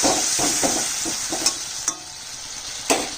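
Spice mixture in hot oil hisses and sizzles steadily after water is poured in, close and fairly quiet, with a few soft stirring scrapes and light clinks punctuating the bubbling.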